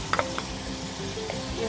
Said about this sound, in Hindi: अदरक लहसुन का पेस्ट डाल के इसे हम इसमें चलाएंगे